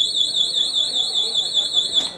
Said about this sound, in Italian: Lo fa con un potente allarme sonoro che avremo modo di sentire.